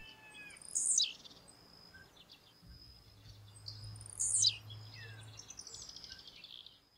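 A blue-black grassquit (tiziu) sings in a rural setting, two short, sharp buzzy chirps a few seconds apart over faint insect hum and a low background drone.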